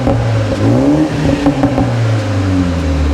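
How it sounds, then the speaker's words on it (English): BMW 320i G20 engine revving through a Dku performance sports rear back box exhaust, a deep, loud, close rising and falling rev with steady low drone. "Give it a rev again."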